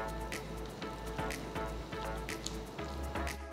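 Banana dosa batter is stirred with added milk, giving wet squishing and dripping sounds with soft irregular slaps and splashes, close and fairly quiet.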